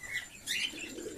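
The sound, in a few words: pigeons cooing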